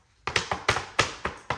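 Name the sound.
knocking on a door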